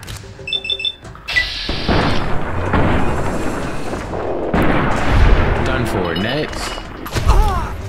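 Gunfire and impacts in the video game Fallout: New Vegas, with heavy booming shots and crashes through most of the passage, under a player talking over the game audio.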